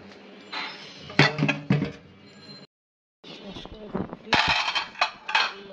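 Dishes and cutlery clink and clatter close by as plates are rinsed and washed after a meal, with a series of sharp knocks, a brief pause, then more clattering.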